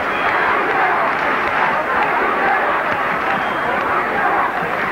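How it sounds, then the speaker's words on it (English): A large cricket crowd at a 1971 Gillette Cup semi-final between Lancashire and Gloucestershire, chanting and singing football-style in a dense, continuous roar of massed voices throughout. "Now we're getting the football crowd,"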